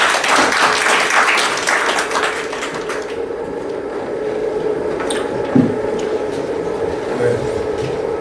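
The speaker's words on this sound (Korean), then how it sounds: "큰 박수로 환영해 주시기 바랍니다" An audience at a Korean policy forum applauds to welcome a speaker: dense clapping for about three seconds, then fading into a quieter room hum with scattered small noises.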